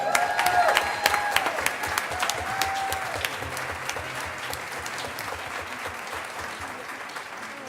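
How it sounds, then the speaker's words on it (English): A round of applause for an honoree at a school board meeting, with sharp individual claps standing out at first and then settling into a looser, thinning patter from the room. "Let's give her a round of applause, everybody"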